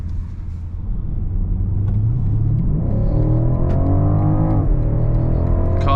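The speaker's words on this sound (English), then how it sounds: "So people, let's now go on the Autobahn and take it for a top speed run." An Alpina B5 Touring estate accelerates hard on the Autobahn during a top-speed run, its engine note climbing steadily through the gears with a loud, continuous rumble and whir from inside the cabin.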